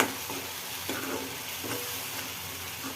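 Salt and turmeric are stirred into masala frying in oil for egg masala, a soft continuous sizzle with a few spoon scrapes, fairly quiet.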